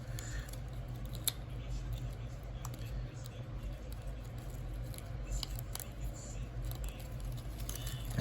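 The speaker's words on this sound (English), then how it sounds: "push the assembly up and rotate the grill. The grill has this peg that's going to tab in to the other side of Optimus Prime's legs" Plastic pieces of a custom Transformers Studio Series Optimus Prime truck toy being handled and clicked together, with small sharp snaps and light rattling scattered over a steady low background hum.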